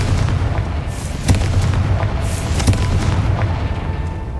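A Confringo fire spell blasts in Hogwarts Legacy, two sharp booming bursts around a third and two-thirds of the way in, set over a steady dense rumble of game ambience with no one speaking.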